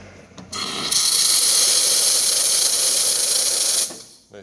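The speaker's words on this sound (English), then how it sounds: "Nice strong steam." A loud, steady hiss of the steam wand on a serviced Rancilio S24 espresso machine, blasting for about three seconds, rising abruptly and cutting off, with no talking over it.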